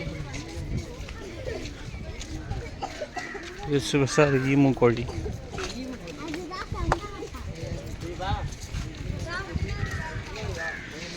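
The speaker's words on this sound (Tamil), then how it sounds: "ஈமு கோழி." Repeated low, throaty calls from emus, rising and falling over steady background chatter and outdoor noise at a zoo in Chennai, moderately close.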